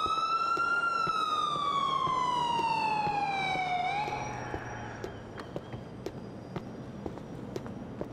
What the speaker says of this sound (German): I hear the police car.